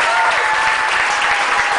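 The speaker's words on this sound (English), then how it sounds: "please give me a round of applause one more time." A show audience breaks into a round of applause for the performer on stage, a steady, dense wash of clapping at even loudness throughout, with faint voices underneath.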